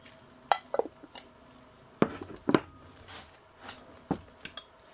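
A fork clinks and scrapes against a bowl while a whole stick of softened butter is mashed and mixed for cinnamon rolls made from scratch, giving a handful of sharp, close taps spread irregularly across a quiet kitchen.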